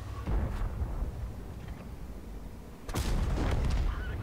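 High-explosive shells fired by a tank in World of Tanks: two heavy booming blasts, one early and a louder one later, each trailing a rumbling decay, with no voices.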